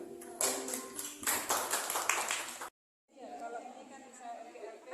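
Hands clapping at a workshop session, a burst of close, uneven applause that stops abruptly, followed after a short gap by faint voices chatting.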